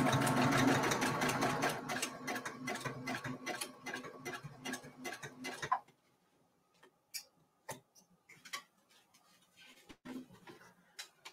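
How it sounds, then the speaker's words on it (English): A sewing machine stitching a table runner runs in a fast, steady rhythmic clatter for about six seconds, then stops. Scattered close clicks and small handling taps follow. "let's see if it sews this time"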